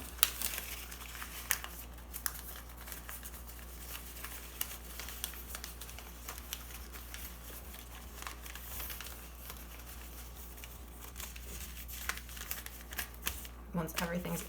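Newspaper folded and tucked into a seedling pot, soft crinkling and papery rustling close by under a speaking voice.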